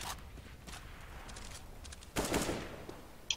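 CS:GO competitive-match gunfire: a few faint, distant shots crack early, then a louder burst of rapid firing with a short echoing tail, and one last sharp shot closes.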